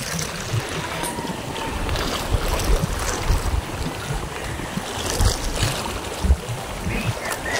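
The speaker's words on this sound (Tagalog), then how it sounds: "Ang ganda ng hampas ng mga alon." Waves surge and break on the shore of Damacan Island, Bacacay, Albay, in a continuous rush, with wind buffeting the microphone.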